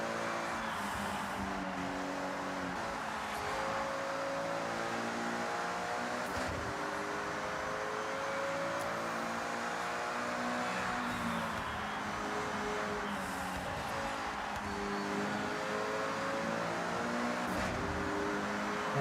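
A Integra race car engine drones steadily during a race, holding a sustained tonal whine with shifting pitch as it revs through gears, the car noise continuous and fairly distant.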